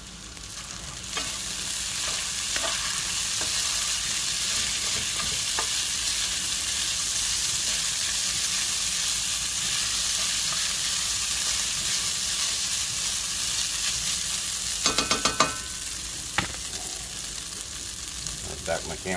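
Hash browns fry on a stovetop with a loud, constant sizzle and crackle heard up close, with a few brief scraping stirs near the end.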